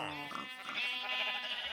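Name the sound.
sheep bleating in a video game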